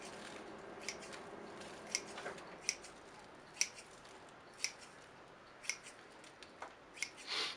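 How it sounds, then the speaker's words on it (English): Sharp scissors snipping the outer edges of bonsai roots, a steady series of crisp, close cuts spaced about a second apart over a quiet background. "So I'm going to trim a little bit of the outer edges of it."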